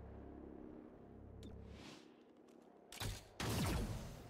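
A Lancer shot in XCOM: Chimera Squad, the game's weapon firing in two loud, broadband bursts near the end, the second heavier and sustained, after a stretch of low rumbling ambience.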